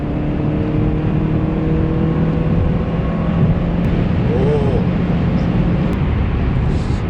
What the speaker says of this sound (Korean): 자, 한번 가속을 해 보겠습니다.